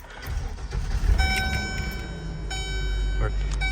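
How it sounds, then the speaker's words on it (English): A 2005 Gulf Stream Ultra Super C motorhome engine cranks and catches, with a low rumble building under a steady dashboard chime and a person speaking. "turn the engine on"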